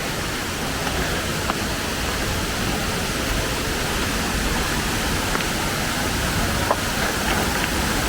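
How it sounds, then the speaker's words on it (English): A waterfall in El Salvador gives off a constant, dense roar of falling water, loud and unbroken throughout. "we're gonna go check out some waterfalls"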